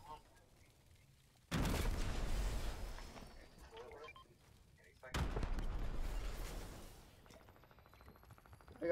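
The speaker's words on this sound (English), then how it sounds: "I got too close to an explosion." Two loud explosions go off in the video game Fortnite, each a sudden heavy boom that rumbles and slowly fades, a few seconds apart.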